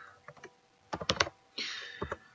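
Typing a username and password on a computer keyboard: close, crisp key taps in short bursts and clusters, with a brief swish of another sound between them, quiet room otherwise.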